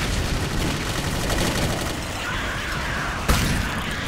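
Gunfire in the video game Clive Barker's Jericho, loud and continuous with dense battle noise throughout and a sharper single report near the end.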